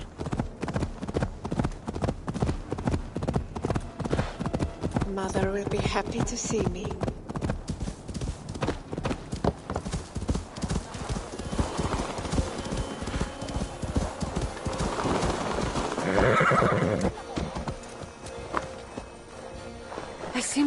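Horse in the video game Discovery Tour: Viking Age: repeated clip-clop of hooves walking at a steady pace, close and rhythmic, with a whinny midway, while a voice speaks over the hoofbeats.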